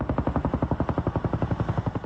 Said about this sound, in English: an aerial bucket brigade as helicopters took turns filling up water from 2 ponds on campus for their airdrops